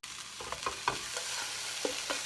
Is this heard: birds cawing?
no